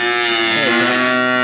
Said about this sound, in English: These heifers here that need feeding, get them fed with the wagon